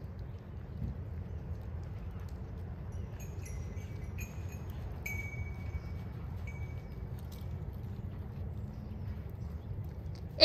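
A horse trots in a ranch pleasure class, soft rhythmic hoofbeats on arena ground heard at a moderate distance, with faint birdsong and small metallic clinks above.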